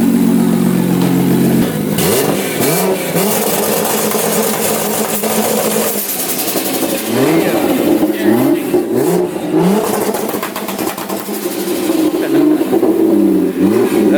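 A turbocharged car engine revs repeatedly, rising and falling in several sharp throttle blips after a brief steady idle, loud and close, with traffic-like background noise.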